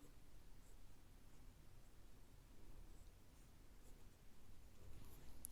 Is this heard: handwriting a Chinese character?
yes